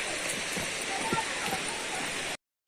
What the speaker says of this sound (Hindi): देखो झरना की आवाज सुनाई देवत है।